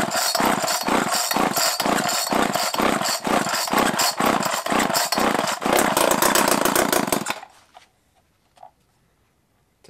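A chainsaw winch's small two-stroke engine is pull-started and runs loud and close for about seven seconds with a rough, pulsing rhythm, then cuts out and leaves near silence with a faint click.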